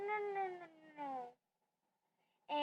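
A kitten meows twice in close succession, loud and near, then falls silent before starting a third meow at the very end.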